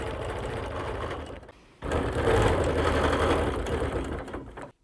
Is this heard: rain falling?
no